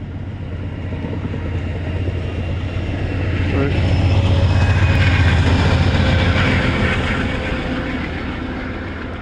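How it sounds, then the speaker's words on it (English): A northbound Amtrak train rumbles past at night near a canal gatehouse, a steady low roar that swells toward the middle and holds, with faint squeal and clatter on top. "That was the Amtrak train going north up to Burlington, Vermont."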